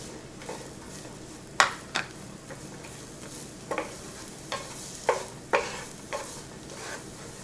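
Onion and green onion sizzle in a frying pan that is not yet very hot, a soft steady crackle broken by repeated sharp scrapes and taps of a utensil stirring against the pan.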